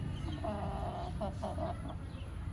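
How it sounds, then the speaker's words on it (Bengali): A hen clucks softly in a short run of calls to her chicks at drinking water, heard over a steady background hum and farmyard noise, moderately distant. "ডাকো বাচ্চাদেরকে, ডাকো পানি খাওয়ার জন্য।"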